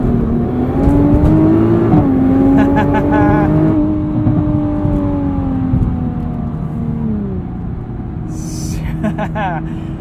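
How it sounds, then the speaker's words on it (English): A 2022 Nissan GT-R Premium launches hard under launch control, its engine roaring loudly up through rising revs with a quick gear change and continued acceleration, heard from inside the cabin with a voice talking briefly over it. "Let's sneak a launch control in here and see how it does"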